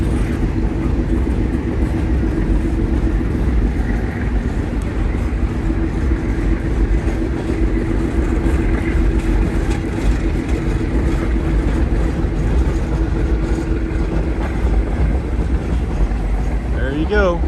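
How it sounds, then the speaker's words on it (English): An older General Electric B23-7 diesel locomotive hauls a grain train up a hill on a snowy short line near Cincinnati, giving a deep, steady chugging rumble close by. It holds even and sustained throughout, with voices faintly underneath. "Chugging sound from that General Electric at the"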